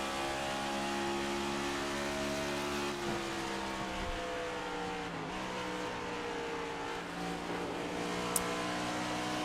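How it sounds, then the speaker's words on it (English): Race car engine droning steadily as a car circles the track in the Speed Cup Series racing video game, a continuous loud whine with shifting pitch as it slides slightly coming out of a turn. "Car slides up just a little bit coming out of turn number 4"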